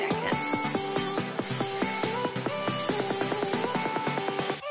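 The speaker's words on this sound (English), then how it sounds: "we will repeat the process by spraying heat protectant." Heat protectant is sprayed onto long hair before using a Bio Ionic Stylewinder curling wand, in several hissing bursts, each lasting about a second with short gaps between them, close and fairly loud over steady background music.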